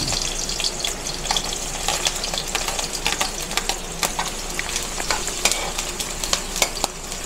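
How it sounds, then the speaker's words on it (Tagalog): Onion and garlic sizzle and crackle in a little oil in a pan, a steady close frying hiss with frequent sharp pops and stirring clicks throughout, no talking. "konting oil lang. Lagyan na po natin yung ating sibuyas bawang"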